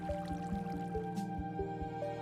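Water poured from a bucket in Minecraft, a quiet steady sequence of soft dripping, squishing plops at a regular rhythm over a continuous tonal background.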